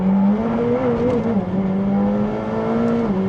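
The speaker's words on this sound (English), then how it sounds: "that raucous tone coming out of those 4 exhaust pipes, just in your face, screaming out the back of this car" Loud, raw McLaren 765LT exhaust roar from four exhaust pipes, a steady rasping drone that rises and falls slightly with engine revs, close and continuous with no talking.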